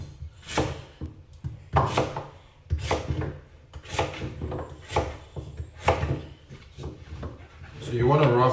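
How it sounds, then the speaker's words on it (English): A knife roughly chopping pumpkin on a cutting board, about seven firm, evenly spaced thuds with a talking voice running underneath throughout. "Just want to rough chop up the pumpkins"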